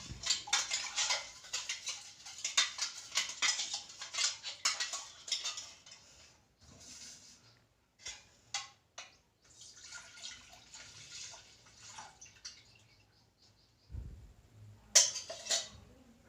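Milk is poured into a blender jar and transferred to a pot while making semiya payasam, with clinking and scraping of the jar and vessels, short splashes of liquid, and quieter gaps between.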